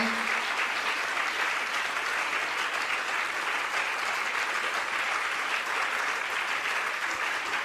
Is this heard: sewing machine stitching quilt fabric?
no